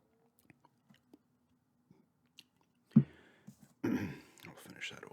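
Gum chewed close to the mic: scattered faint wet clicks at first, then a louder burst of chewing and mouth sounds near the end.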